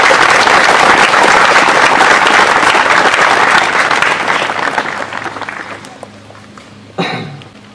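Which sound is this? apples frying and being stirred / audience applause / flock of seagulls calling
audience applause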